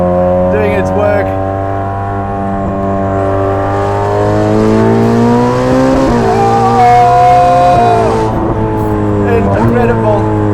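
Twin-turbocharged Ferrari 488 Pista engine pulling hard on a track in South Africa, loud and close with rising harmonic tones through a long acceleration, a brief dip at a gear change, then climbing again.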